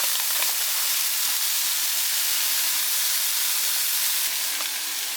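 Cheese frying in a hot pan for breakfast, a loud continuous hiss and sizzle close by, steady and unbroken.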